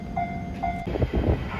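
JR Shikoku 7200 series local electric train arriving at a station on the Yosan Line; a thin electric whine sounds briefly, then heavy low rumbling of wheels and car bodies rolls in close.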